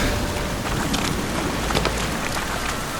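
Steady rain falls in The Witcher 3: Wild Hunt, a dense, even hiss of drops with a faint wind-like wash underneath, constant and fairly loud throughout.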